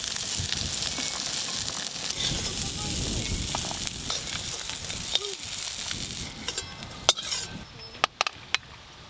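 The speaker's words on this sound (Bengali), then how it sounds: "কাঁকড়াগুলো ভালো করে ভাজা হয়ে গেল" Crabs frying in mustard oil in a village kitchen, a loud continuous sizzle with occasional stirring clinks and scrapes toward the end.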